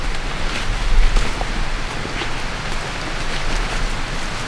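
Light drizzle in a dense forest makes a steady, even patter of raindrops with a soft continuous hiss throughout.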